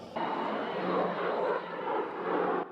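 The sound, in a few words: vintage propeller aircraft flying, Yak-3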